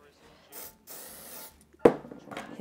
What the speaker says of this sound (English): Hit with thickening spray.